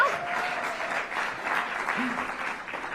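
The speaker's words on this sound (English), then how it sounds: "Come on, hand claps now." A crowd at the National Cherry Blossom Festival event claps steadily, a continuous wash of hand claps at moderate distance, with a faint voice briefly under it.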